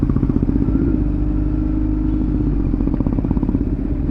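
Motorcycles idle and rumble close by on a group ride with a Kawasaki Z900 and a Honda CBR650F. A steady low engine drone runs throughout, with a slight rise in revs near the end and no talk.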